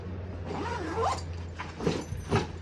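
The bag of a Darche Ridgedome tent is zipped closed with a quick, close zipper pull, followed by a couple of brief rasping zip strokes.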